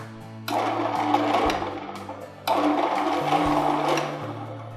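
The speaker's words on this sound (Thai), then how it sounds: "เราสามารถกดปุ่ม reverse เพื่อที่จะดันผักและผลไม้ขึ้นมาได้ค่ะ" A ReBoot Master 6000 juicer motor whirring in reverse, a steady electric hum that surges into a louder grinding buzz in two bursts, each dropping back to a lower drone, close to the microphone.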